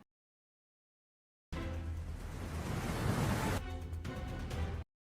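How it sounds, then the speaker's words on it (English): A powerful water eruption bursts from the ground, a roaring broadband rush that starts abruptly, swells, then cuts off, heard from a distance with some crackling wind-like noise. "Powerful water eruption bursts from the ground as witnesses record the strange natural event from a"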